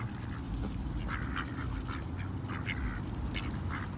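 Ducks at a park pond in Trinity Hills Park quack in short, repeated nasal bursts over a steady outdoor rumble, several calls overlapping at moderate distance.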